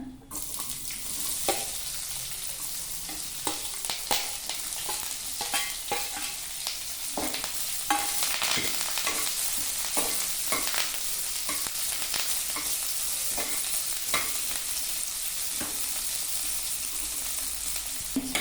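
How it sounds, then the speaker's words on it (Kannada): Chopped onions, green chillies and curry leaves fry in a pan over a medium flame, giving a steady close sizzle with frequent scraping and clicking from stirring throughout, and no voices. "ಈರುಳ್ಳಿ ಸಣ್ಣ ಕಟ್ ಮಾಡಿ ಇಟ್ಕೊಂಡಿದ್ದೀನಿ ಇದನ್ನು ಸೇರಿಸ್ಕೊಳ್ಳೋಣ"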